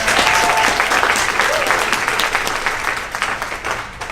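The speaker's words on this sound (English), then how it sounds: "give yourselves a round of applause for that." Loud, dense applause from an audience at a campus activities showcase, sustained throughout and tapering slightly near the end, with faint voices mixed in.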